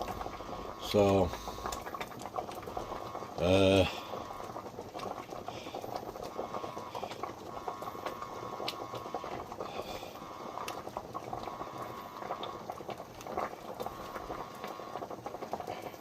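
Water bubbling steadily in a pan of carrots, cauliflower and broccoli, a soft continuous simmer in a home kitchen, with two short louder mechanical bursts early on and a brief word spoken over it.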